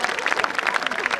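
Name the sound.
audience applause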